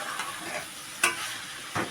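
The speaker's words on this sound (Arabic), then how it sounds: "شوحهم تشويحه حلوه كده مع بعض" Minced meat and zucchini sizzle steadily in a pan while being stir-fried, with a soft continuous hiss and two sharper clinks or stirring scrapes, close and unaccompanied by talk.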